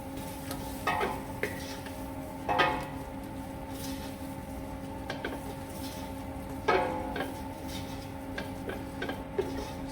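Madras curry paste cooking in a pan over medium heat, a soft, steady sizzle under a few distinct clinks and scrapes of a spoon stirring at intervals, with no voices.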